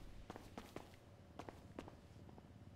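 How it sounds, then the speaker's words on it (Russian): Footsteps of someone walking through a house in GTA 5, faint and somewhat distant, a handful of soft thuds in an uneven walking rhythm over a quiet room background. "Слышишь, кто-то ходит?"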